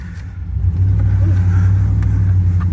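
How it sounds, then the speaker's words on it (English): Steady low rumble of a 1994 GMC Sierra truck's V8 engine while driving, building slightly in the first second and then holding a loud, even drone heard from inside the cab. "Got plenty of torque from that V8."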